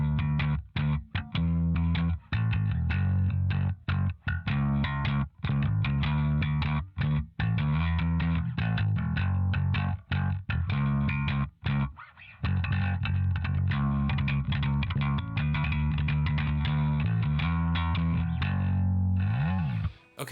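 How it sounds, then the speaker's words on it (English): A distorted, effected bass guitar riff played with new, clicky strings, loud and continuous with sharp percussive attacks and brief gaps between phrases, heard alone without talk. "So maybe I think the new strings definitely helped give that clicky sound"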